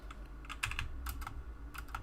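Quiet clicks and clacks from a mechanical keyboard with brown switches, a short irregular burst of keystrokes, close but soft, with no talking.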